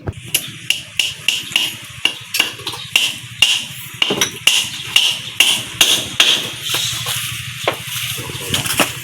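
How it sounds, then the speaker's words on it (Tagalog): Repeated hammer blows drive nails into a wooden window frame, a steady run of sharp knocks roughly every half second, loud and close with some rattling between strikes and no talking. "dinodoblihan na lang po ni Tutoy ng pako"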